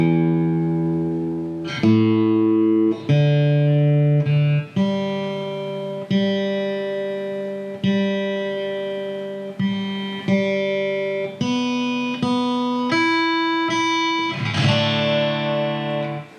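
A PRS SE Angelus guitar's strings are plucked one at a time and left to ring as it is tuned on an amp tuner, a dozen or so clean sustained notes with slight distortion.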